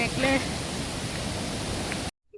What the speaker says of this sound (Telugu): ఈ వర్షాల కారణంగా వాటర్ ఫాల్స్ చాలా ఎక్కువగా వస్తుందండి